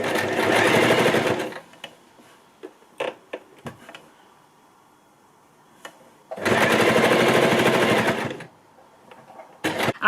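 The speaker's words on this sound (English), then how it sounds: "I'm going to take him down to the machine and start sewing" Sewing machine stitching a fabric scrunchie in green thread, running in two loud sustained bursts separated by a quiet stretch of clicks and handling.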